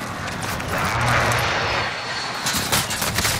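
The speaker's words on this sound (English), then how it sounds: "Be advised, friendly precision airstrike inbound." A loud roaring rush of video game airstrike jet aircraft sweeping overhead, a swelling whoosh followed by rumbling, with crackling bursts toward the end.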